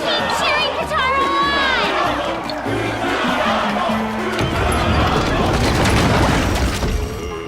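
A large crowd roars and cheers in a colosseum during a Puppeteer video game cutscene, a dense, loud wash of shouting voices over booming music and effects that swells steadily across the whole stretch.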